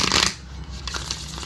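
Cards being riffled quickly in a short, crisp burst, followed by softer rustling and handling noise, close by with no talking.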